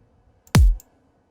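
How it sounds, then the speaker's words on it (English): A single punchy kick drum one-shot sample from Ableton, meant for a glitch hop beat, lands once with a deep, booming low thump that decays quickly, standing alone against near silence. "Now that's a pretty powerful kick drum already"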